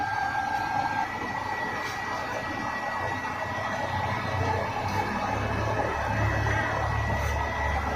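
A blower fans a fire, giving a continuous loud rushing whir with a low rumbling hum that swells somewhat toward the end, heard alone without speech.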